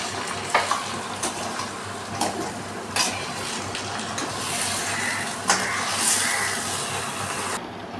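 Marinated chicken being mixed with masala for a chicken curry, with wet squelching and stirring over a steady sizzle-like hiss and several sharp clinks of a utensil against the vessel, close and continuous.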